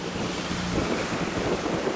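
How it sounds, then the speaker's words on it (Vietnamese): Strong wind roars across a microphone aboard a tourist speedboat heading out to sea in stormy weather, a continuous loud buffeting rush mixed with low engine and water noise, no talking. "Phải nói là hôm nay là gió"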